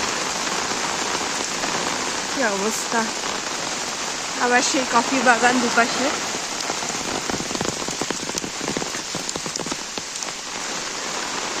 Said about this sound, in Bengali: মুষলধারে বৃষ্টি